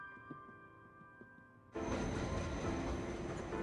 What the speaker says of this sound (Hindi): ये तीसरी ट्रेन थी जो हमारी नहीं थी।